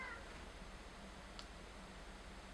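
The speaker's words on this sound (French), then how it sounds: "Il y a mon chat qui miaule." A house cat meows briefly and faintly indoors, a short call at the very start, followed by a soft click over a steady low room hum.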